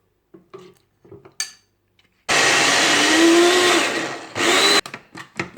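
A kitchen blender grinds soaked lentils (dal) for dahi bhalle in one loud, steady whirring burst of about two and a half seconds. Clicks and clatter of the jar and lid come before and after it.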